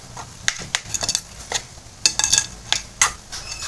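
Burger ingredients being mixed by hand in a bowl, with scattered clicks and knocks of utensils against dishware in an irregular rhythm, close and moderately loud.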